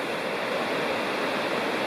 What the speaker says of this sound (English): you can hear and see Citico Creek down